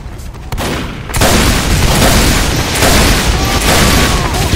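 Rockets reflected back exploding in Team Fortress 2, a loud roaring wash of blasts and gunfire that swells after a brief quieter opening and stays dense and booming to the end.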